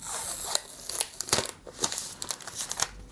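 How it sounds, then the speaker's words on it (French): Protective paper film peeled off a new Asus Zenfone Max Pro M2 smartphone, a series of soft close crinkling and crackling bursts, irregular and fairly quiet, with no speech. "on va enlever le petit papier"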